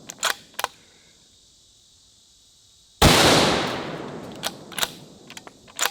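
A single sharp bolt-action rifle shot hitting 12-ounce soda cans outdoors, a loud crack followed by a decaying echo, with a few faint clicks before and after.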